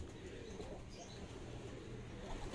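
Soft, low cooing of many pigeons kept in a loft, a faint continuous murmur of overlapping calls with no clear individual rhythm.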